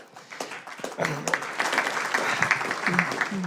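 Applause from a room of people at a city council meeting, steady clapping that builds and holds, with a few voices mixed in.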